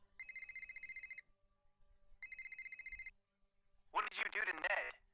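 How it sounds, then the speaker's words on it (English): A telephone rings twice in the Nancy Drew: The Captive Curse video game, each ring a trilling electronic burst about a second long, separated by a short pause, followed by a brief burst of speech. "Oh, getting a phone call."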